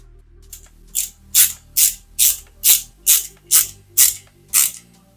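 Repeated ratcheting clicks as a screw is driven into a Fanhome Fast and Furious Toyota Supra Mk4 model kit part, about nine evenly spaced bursts close up, with no talk.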